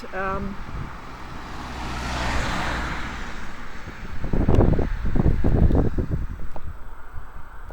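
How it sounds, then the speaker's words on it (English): Cars on a rural road in Scotland: a steady wind-buffeted rumble swells as a vehicle roars past close by around the middle, with a brief voice-like sound at the start. "there are more cars coming"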